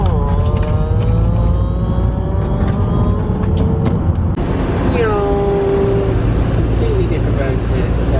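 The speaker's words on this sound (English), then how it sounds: "Listen out for my car noises." Car engine revving and changing pitch on an Estonian road, rising and falling loudly and close over a constant rumble, with a sharp shift partway through.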